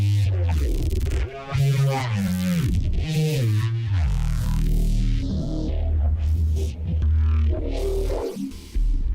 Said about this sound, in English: This is a very basic heavy reese.